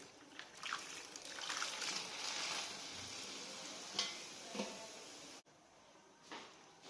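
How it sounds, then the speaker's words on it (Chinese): Prepared beef offal is tipped into a pot of cold water for blanching, making a faint, splashy trickle and slosh that rises and falls before a brief drop to near quiet. "我们把这个准备好的这个牛杂倒到锅里面去。"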